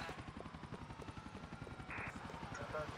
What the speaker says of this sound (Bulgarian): Бягай, Луис, има и хеликоптер!